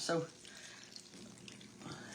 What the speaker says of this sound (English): Let me put some water in this.